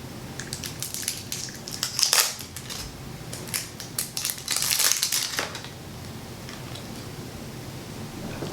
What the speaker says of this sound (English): Let me get the plastic off this.